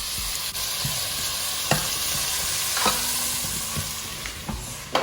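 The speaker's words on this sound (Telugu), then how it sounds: "ఉల్లిపాయలు కొంచెం వేగనిద్దాం. ఇందులో పచ్చిమిరపకాయలు కూడా వేసేద్దాం ఒక్కసారి." Onions and green chillies sizzle steadily in a hot pan with a continuous frying hiss, broken by a few sharp stirring scrapes and clinks, close and fairly loud with no talking, while goat leg paya is being prepared.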